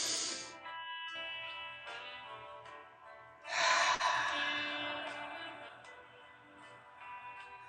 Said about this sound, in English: Right now, let's breathe in.